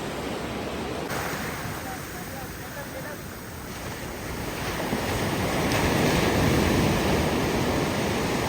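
Sea surf at the beach in Mulki, a surfing spot, rolls in as a continuous loud rushing wash, with wind buffeting the microphone and the breakers swelling toward the end.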